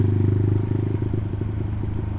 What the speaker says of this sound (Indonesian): suara mesin tuh lo